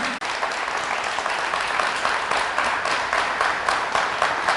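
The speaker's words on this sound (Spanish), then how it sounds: "Fuertes aplausos al Señor Jesús." A church congregation at a religious congress applauds loudly and steadily, a dense wash of clapping from many hands with no talk over it.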